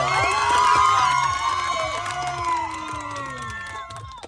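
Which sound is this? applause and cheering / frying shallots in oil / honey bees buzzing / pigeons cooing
applause and cheering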